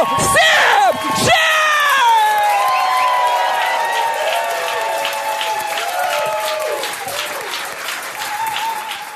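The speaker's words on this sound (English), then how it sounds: "Please put a big round of applause." A large crowd breaks into loud, sustained applause, with whoops and high cheers rising over it at first before it settles into steady clapping.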